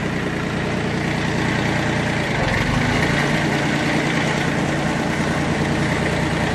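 A Yanmar F14D Japanese mini tractor drives along in gear with its tiller raised, a steady, close diesel drone with a constant vibrating rumble and no voices.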